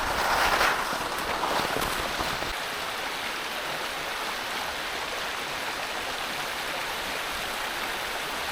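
A river rushes through a backcountry valley at Happo-one's Garagara Sawa in Japan, a steady broadband wash of flowing water with a louder, windier burst at the start, no voices.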